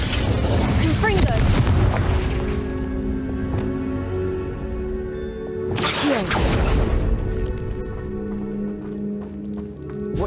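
Two deep, booming Confringo spell explosions from the video game Hogwarts Legacy, one at the start and a second a few seconds later, each a loud broadband burst over steady background music.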